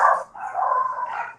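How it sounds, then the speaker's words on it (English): At a high school football game broadcast, a dog gives a short run of yipping barks, fairly close and loud. "All the dogs going crazy now."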